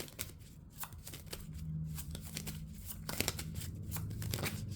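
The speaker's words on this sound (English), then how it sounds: "So we're going to pull some cards." Tarot-style reading cards are shuffled and pulled by hand at close range, a series of crisp riffling flicks and slaps in irregular bursts, fairly soft with no talk.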